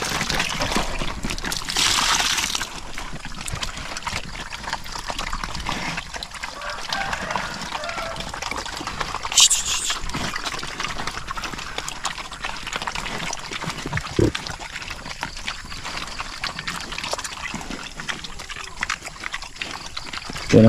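Free-range pigs slurp and splash noisily at watered-down broth mixed with rice bran and feed, a steady wet sloshing and sucking that runs on throughout at close range.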